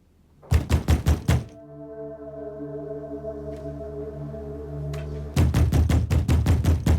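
Heavy knocking on a door in a palace drama: a quick burst of five loud raps, a long stretch of sustained low tonal music, then another rapid run of about eight thudding knocks.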